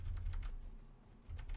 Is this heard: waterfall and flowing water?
no